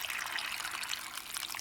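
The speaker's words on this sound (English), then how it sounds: "she's adding water" Water poured into a pot in a kitchen, a steady bright trickling splash running evenly throughout.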